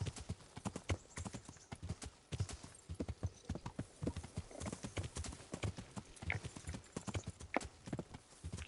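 Horse hooves gallop in the medieval video game Kingdom Come Deliverance, a fast continuous clip-clop of heavy thuds at a close, even pace with no pauses.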